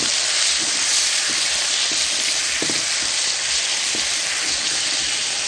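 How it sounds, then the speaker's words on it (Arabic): Chicken sizzles steadily in a hot pan with garlic, a dense continuous frying hiss with faint stirring clicks underneath, close and loud throughout. "يلا بقى ونشوح الفراخ بتاعتنا"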